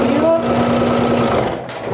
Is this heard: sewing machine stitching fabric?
yes